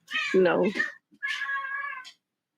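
A cat lets out two long, loud, drawn-out yowling meows close to the microphone, separated by a brief pause, with nothing else around them.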